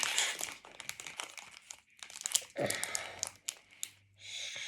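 A foil-and-plastic wrapper on a gold-colored Dubai pistachio chocolate bar crinkles and crackles in close, uneven bursts as someone struggles to tear it open, with faint breathing and a brief low voice.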